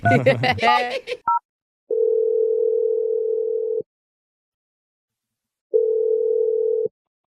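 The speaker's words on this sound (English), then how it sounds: "I'm dialing her number right now" A telephone dialing a number and ringing, with a short dial blip after a voice, then two long steady ring tones separated by silence, loud and clear with nothing else over them.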